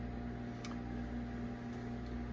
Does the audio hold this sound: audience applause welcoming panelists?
no